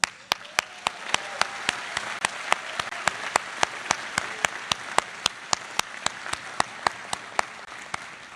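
A crowd at a USC Dornsife college commencement ceremony applauds with a steady wash of clapping, while one sharp, loud clap cuts through at a regular, quick rhythm close by.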